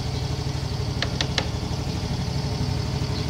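A Yamaha Mio Fino scooter modified for keyless start, its small engine idling with a steady, close, putting rhythm, three short beeps sounding early on.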